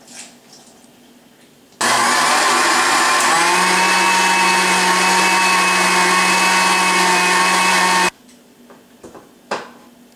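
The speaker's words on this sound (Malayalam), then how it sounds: "നമുക്ക് 1 ഗ്ലാസ് മാവ് 1 ഗ്ലാസ് വെള്ളത്തിൽ മിക്സിക്കകത്തിട്ട് അടിച്ചെടുക്കാം" A kitchen mixer grinder blending flour and water for halwa kicks on abruptly, runs as a loud, steady whirring roar for about six seconds and stops, leaving quiet with faint clatter.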